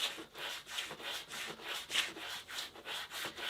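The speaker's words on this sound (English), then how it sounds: "When I'm sanding, for the flat surfaces, I'll sand straight like this" Close-up sanding of a carved wooden spoon with 150 grit sandpaper, steady back-and-forth rasping strokes in an even rhythm, about three per second, loud and alone.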